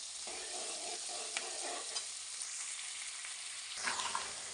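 Onions frying in oil in a pan make a soft, steady sizzle with a few light stirring clicks, and a brief louder scrape of stirring near the end.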